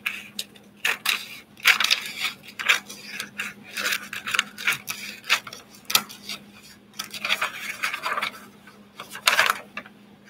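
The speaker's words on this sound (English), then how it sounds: "So anyways, you can hear it. It's a crispy, vellum is very crispy." Crisp vellum paper being cut by hand, giving a series of sharp, crunchy rasping snips and crinkles in an irregular rhythm, close and fairly quiet, with no talking.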